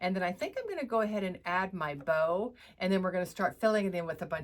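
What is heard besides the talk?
No distinct noise like a dog, phone or traffic.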